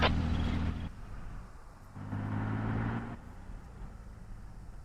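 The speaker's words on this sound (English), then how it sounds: "I hear a logi truck." A heavy logistics truck engine in a video game drones and revs in uneven bursts, loud at first, easing off, then surging again before settling lower.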